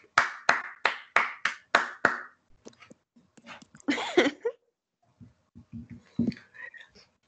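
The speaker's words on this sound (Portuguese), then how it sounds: "Uma salva de palmas para o professor de vocês" A few hands clap for a professor during a live evening business-law class, with six sharp, evenly spaced claps close by, then scattered taps, rustling and quiet voices.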